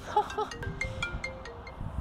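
A phone ringtone plays for an incoming call in a garage during restoration of a Nissan 200SX fiberglass body kit, a short melodic tone pattern repeating at moderate volume over background noise.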